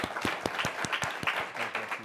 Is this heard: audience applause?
yes